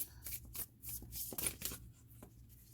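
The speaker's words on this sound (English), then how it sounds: "these cards, I still have to get used to shuffling them." Tarot cards being shuffled close up, a quick run of soft riffling flutters and papery rubs in several bursts over a quiet background.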